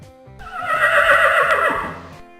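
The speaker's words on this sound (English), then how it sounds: "Horse." A horse lets out a single loud, close whinny that swells and then trails off over a couple of seconds.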